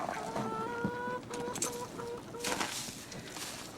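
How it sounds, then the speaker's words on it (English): Chickens cluck and squawk in short, irregular bursts inside a cold winter barn, loud and close with faint background rustling. "Now, the chickens aren't laying, but they're still alive."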